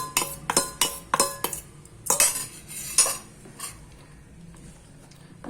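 Spoon scraping and clinking against a bowl while cake batter with milk powder is stirred for a pistachio pudding cake, a run of quick sharp clinks at first that thins to softer, sparse scrapes, close and alone with no talk.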